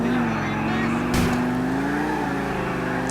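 An Oracle II car driving in GTA IV, its engine holding a steady droning note that rises slightly, with a brief sharp burst of noise partway through.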